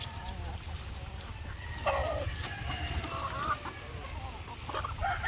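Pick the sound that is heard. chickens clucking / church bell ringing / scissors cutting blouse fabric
chickens clucking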